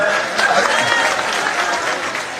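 A large crowd at a Congress party public rally in Ambah claps loudly to welcome Kamal Nath, a dense, continuous burst of applause filling the short stretch without pause.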